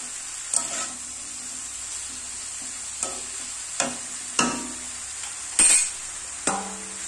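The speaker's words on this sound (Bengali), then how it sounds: "শাকটা ভালো করে কষাই করে নেবো গাইস" Pumpkin greens stir-fried in a pan, with a spatula scraping and knocking against the metal every second or so over a faint steady sizzle, close and fairly quiet, no voices.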